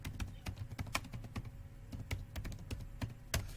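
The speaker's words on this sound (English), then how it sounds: "Now I am typing simply here" Fingers typing a command on a computer keyboard in a Linux terminal, a steady run of close, crisp key clicks with irregular spacing and a few heavier strokes.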